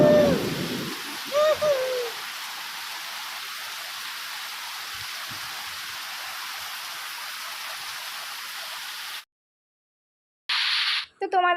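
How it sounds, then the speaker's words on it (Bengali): Heavy rain pours steadily as a dense, even hiss through most of the stretch, with brief voices near the start, then a sudden drop to silence before another short burst of rain near the end. "তোমাদেরকে একবার বৃষ্টির আওয়াজটা শোনালাম"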